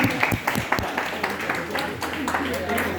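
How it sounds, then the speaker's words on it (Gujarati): Scattered applause welcoming guests at a 75th birthday celebration, uneven claps from a small gathering mixed with voices talking through it. "તેમને તાળીઓના ગડગડાટથી વધાવી લઈશું."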